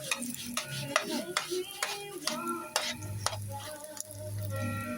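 Garlic frying in a pan and stirred until browned, with a steady sizzle under repeated ticking scrapes of a utensil against the pan, fairly close and quiet, and a low hum in the latter half.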